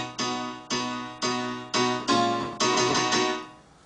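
Old-school 90s-style piano chord sequence of about seven evenly spaced chords, each struck cleanly and left to decay, moderately quiet and alone, with the last chord ringing out and fading.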